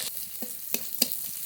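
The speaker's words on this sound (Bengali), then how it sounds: "রসুনটা একটু ভাজা ভাজা করে নেব।" Whole garlic cloves fry in a little oil, giving a soft, quiet sizzle broken by a few short stirring clicks spaced across the moment.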